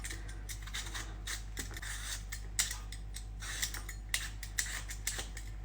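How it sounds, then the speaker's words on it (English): A knife cutting through potatoes on a board while peeling and dicing for cheese and onion pasties, a run of quick crisp slicing strokes with sharp chops toward the end, close and clear. "we're going to peel and dice our potatoes into small pieces"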